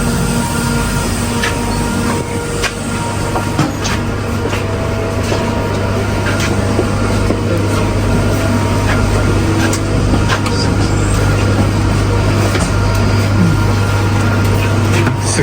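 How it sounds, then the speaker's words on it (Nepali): A West Midlands commuter train rolls along with a steady, loud low rumble and rattle from inside the carriage, and faint voices murmur now and then. "यसो हाम्रो ट्रेन पनि आइसक्यो अब ट्रेनमा जाँदैछौँ हामी है"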